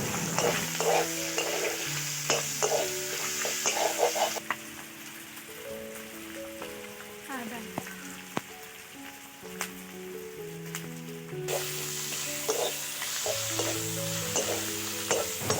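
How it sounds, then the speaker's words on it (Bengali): Onion and ginger fry in a pan with a steady crackling sizzle. Repeated stirring clinks and scrapes come through under it, and the frying briefly quietens partway before swelling again, with no voices. "এবার এর মধ্যে পেঁয়াজ দিয়ে দিলাম আর একটু আদা দেব, দিয়ে লাল লাল করে ভেজে নেব।"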